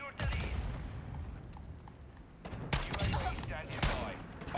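Decoy grenade in Modern Warfare 2 mimicking gunfire, giving scattered bursts of shots at mid distance over a steady rumble of battle noise, with a person talking over it.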